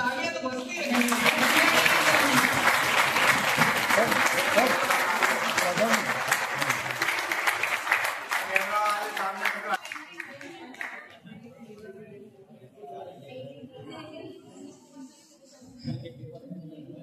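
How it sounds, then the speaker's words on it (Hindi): A crowd applauds at a teacher training programme under Mission Jyotirgamay. The clapping is loud and sustained for about ten seconds, then fades to a quieter room with some talk. "तालियां तो बजती रहेंगी"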